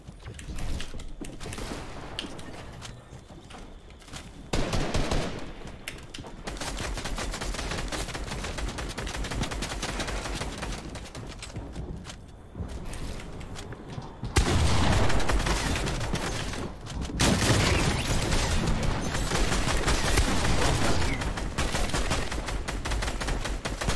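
Bursts of rapid gunfire crackle in an arena-ranked video game, with mechanical clicks and clatter between volleys, growing louder and denser in the second half.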